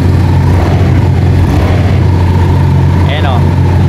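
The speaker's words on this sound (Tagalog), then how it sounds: "Ayan, umandar na yung motor natin." A motorcycle that has sat soaking in the rain idles steadily and loudly right up close after being started, a low continuous engine rumble with someone talking over it.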